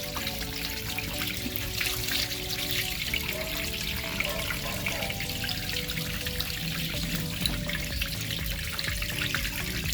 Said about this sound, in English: now it's dumping all of that dirty water